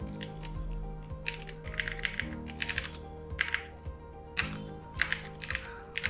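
Computer keyboard typing while laying out a Telugu wedding card in Adobe PageMaker 7.0, with bursts of close, quick key clicks and short pauses, steady and fairly soft throughout.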